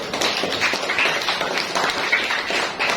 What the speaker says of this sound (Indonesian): tepuk tangan untuk Mustafa